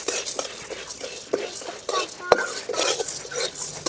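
Dry spices roasted in a pan for sambar powder, heard as a steady run of scraping, clinking stirring strokes, close and fairly loud, with a faint crackle underneath.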